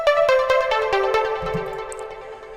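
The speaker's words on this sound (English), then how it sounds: "let's have a listen to what this lead sounds like in action" Chillstep pluck lead synth patch built in Reason's Thor synthesizer, playing a melodic line of bright, plucky notes with a soft, airy tail, alone and fairly loud.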